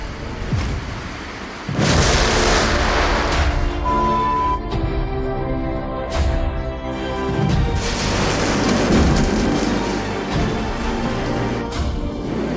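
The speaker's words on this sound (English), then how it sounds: "The lightning literally shattered the tree just seconds after their friend went inside." A thunderstorm with lightning striking a tree, heavy rolling thunder and loud booming rumbles over steady rain and wind noise, sustained and close throughout.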